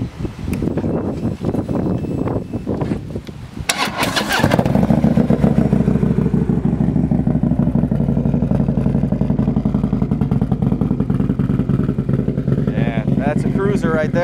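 A customized 2015 Harley-Davidson Road Glide bagger in flat black is cranked and fires up, settling into a loud, close, lumpy V-twin idle that runs steadily, with brief talk before the start.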